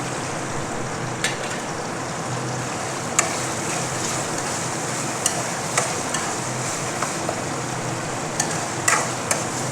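Urad dal and chana dal tossed into hot oil for a drumstick and green chilli curry, giving a steady, loud sizzle with scattered sharp clicks and pops of stirring and spattering throughout.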